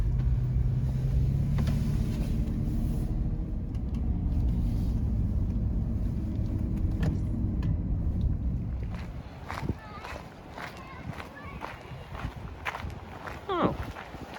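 A car rolls up to Ruby Beach in Olympic National Park, its low engine and road rumble steady and close before fading out, leaving scattered footsteps and light clatter; voices talk over parts of it.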